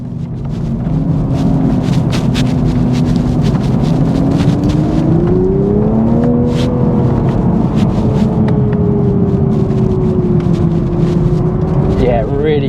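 Toyota GR Supra Jarama Racetrack Edition engine revving on the Jarama circuit, a loud continuous turbocharged drone climbing and dipping in pitch from inside the car, with a voice talking over it.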